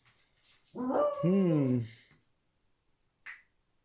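A dog gives a drawn-out, whining vocal that bends up and down, then falls silent before one short, sharp yip or snap near the end.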